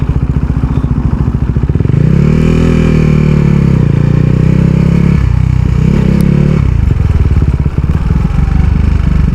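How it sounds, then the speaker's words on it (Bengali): A motorcycle rides along while slowing on engine braking alone, no brakes applied; a loud, close engine drone shifts pitch and throbs steadily as the revs fall, with no talking. "আমি কিন্তু এখনো ব্রেক ধরে নাই শুধু ইঞ্জিন ব্রেকই ব্যবহার করতেছি"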